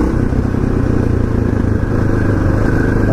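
A KTM LC4 640 single-cylinder motorcycle roars loudly and steadily on a test ride, its engine drone thick and continuous with a rough, thumping texture and no voices over it.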